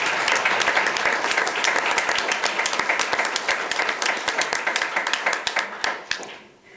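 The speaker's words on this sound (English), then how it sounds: "Let's give both teams a round of applause." An audience at a school board of trustees meeting applauds student teams, a dense, steady round of clapping that thins into scattered claps and fades at the end.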